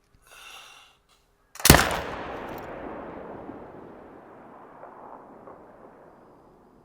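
A single sharp rifle shot from a Zaza 10 .308 in theHunter Call of the Wild cracks loudly, then trails into a long rolling echo that fades over several seconds. A brief soft rustle comes before it.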